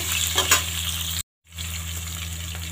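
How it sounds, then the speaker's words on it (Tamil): Green chillies sauté in a pan with a steady close sizzle, broken by a short silent gap, then resuming at a similar level. "பச்சை மிளகாயை போட்டு நல்லா வதக்கி எடுத்துக்கலாங்க. ஒரு நிமிஷம் நல்லா வதங்கட்டுங்க."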